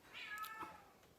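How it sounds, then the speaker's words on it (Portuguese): A pet cat gives a single faint meow indoors, a short rising-falling call with no talking over it. "Temos a participação da nossa gatinha aqui, a Magrela."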